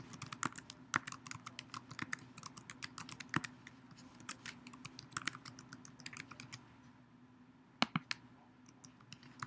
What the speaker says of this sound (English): I'm going to retype it in.